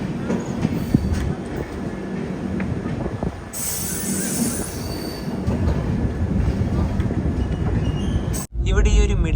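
Express train running at speed on the Kochuveli–Rishikesh line, heard from inside a 3AC economy coach as a steady loud rumble with wheel squeal and rattling, a voice talking over it briefly near the end.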